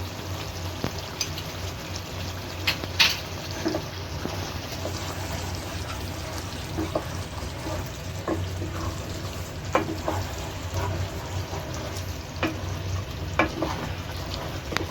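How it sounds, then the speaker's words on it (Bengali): Ghee sizzles softly in a pan while Bengali-style aloo dum cooks, a steady low frying hiss broken by occasional light clicks and stirring sounds, with no talking. "এবার আমি একটু ঘি দিয়ে দিলাম 1 চামচের মতো।"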